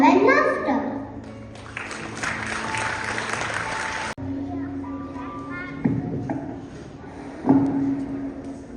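A school assembly audience of children and adults breaks into steady applause and cheering that lasts several seconds, with chatter and shuffling mixed in as it fades.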